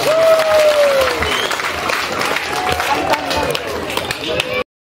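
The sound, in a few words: crowd applause at a campaign event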